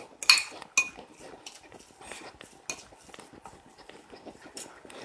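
A spoon clinks and scrapes against a bowl while basil, olive oil, salt and pepper are mixed, giving a few sharp metallic taps followed by softer irregular stirring.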